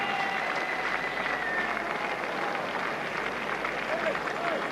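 A Stuttgart stadium crowd applauds decathlete Daley Thompson, producing a steady, dense wash of clapping and cheering that holds for several seconds, with a voice speaking over it.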